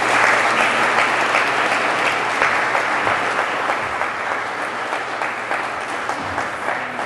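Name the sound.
audience applause for presenters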